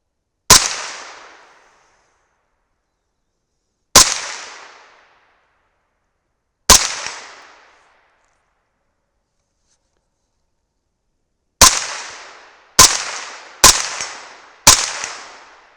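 A 300 BLK rifle fires powder-coated bullets at steel targets outdoors, with sharp, loud single shots spaced apart, then four quicker shots in succession, each ringing out and decaying.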